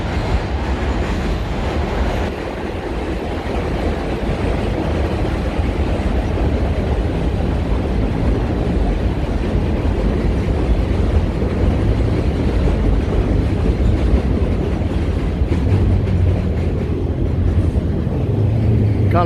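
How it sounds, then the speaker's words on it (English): A New York 7 subway train passes in Jackson Heights, Queens, with a loud, sustained rumble and rail roar that stays close for nearly twenty seconds and drowns out the street. "you're gonna hear a lot of noise because this is like where the 7 train pass"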